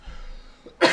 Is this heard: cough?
yes